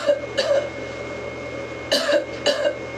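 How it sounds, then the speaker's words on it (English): Close, loud coughs: a quick pair at the start, then two more after a pause, over a low steady hum. "Give me a cough."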